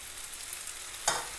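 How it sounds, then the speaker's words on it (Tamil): Tomatoes with chopped ginger and garlic sautéing in a pan, a soft steady sizzle with one brief stir or scrape near the end, fairly quiet and without any talk. "நல்லா வதங்கிடுச்சு தக்காளி"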